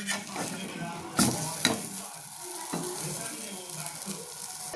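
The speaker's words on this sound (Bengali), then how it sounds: "অমলেট করছি।" Omelette sizzling and frying in a pan for a home dinner of roti, potato curry and onion relish, steady crackle throughout with a few sharp clatters of a spatula or utensil against the pan.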